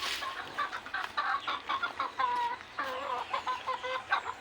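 Backyard chickens clucking busily and continuously while being fed, a close, dense chorus of short overlapping calls with no talking.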